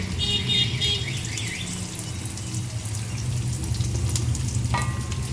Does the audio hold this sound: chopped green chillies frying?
yes